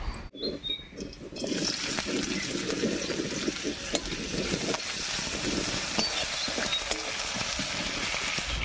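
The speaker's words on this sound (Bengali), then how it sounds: "এবারে মাছ ভাজার এই তেলের মধ্যে দেবো একটা পেঁয়াজ কুচি" After a quiet moment and a clatter, chopped onion hits oil left from frying fish and a steady close sizzle takes over, broken by light stirring scrapes.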